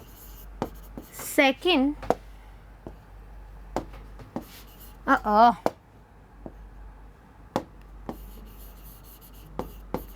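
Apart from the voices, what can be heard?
writing on a board during a biology lesson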